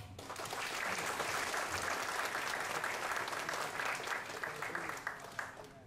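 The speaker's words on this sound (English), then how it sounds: "Will you please give this gentleman a big applause?" A seated audience at a recognition ceremony for Hmong pilots gives a gentleman a big round of applause, a full, even roar of many clapping hands that stays steady and fades slightly near the end.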